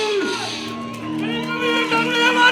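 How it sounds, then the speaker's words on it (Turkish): Crowd cheering and shouting at a Turkmen wedding celebration in Istanbul, a lively burst of whoops and raised voices close by, with music-like tones underneath. "Bravo! Alkış!"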